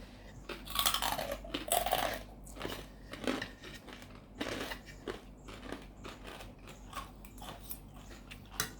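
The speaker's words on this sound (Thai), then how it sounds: "เสียงเคี้ยวแคบหมู" Crispy pork rinds, served with rice and chili dip, being chewed close up, giving loud, irregular crunching and crackling bites that fade into softer chewing and come back in repeated bursts.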